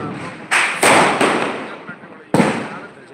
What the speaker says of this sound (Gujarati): દિવાળીના ઉજવણી કહેવાય ફટાકડા ફોડી રહ્યા છે